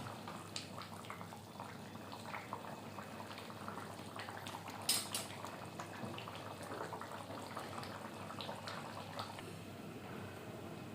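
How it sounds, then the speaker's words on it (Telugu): Drumstick curry simmering in a covered pot, a soft continuous bubbling and gentle sputtering close by, quiet throughout with one brief louder pop midway. "కూర ఉడుకుతుంది కదండి"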